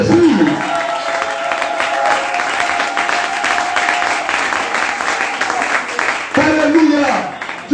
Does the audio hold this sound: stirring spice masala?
no